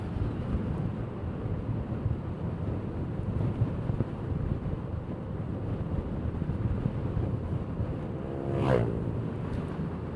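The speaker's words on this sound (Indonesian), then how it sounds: "Soalnya anginnya lumayan gede, kenceng." A steady, low roar of strong sea wind batters the microphone on a coastal road near Subang, with a brief louder swell near the end.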